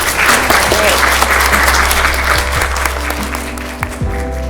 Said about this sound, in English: I would like you to please join me in giving our guests a round of applause